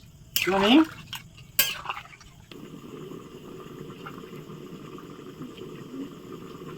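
A pot of country rooster meat curry with hot water added bubbles on the stove; a couple of sharp metallic utensil clanks come first, then a steady, low, close simmering burble continues alone.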